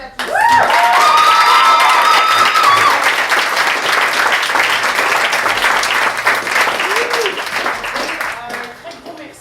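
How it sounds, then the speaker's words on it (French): Loud, sustained audience applause fills a live show venue, dense clapping running for several seconds before thinning out toward the end, with brief whistles and cheers rising above it. "Ça mérite aussi une bonne main d'applaudissements."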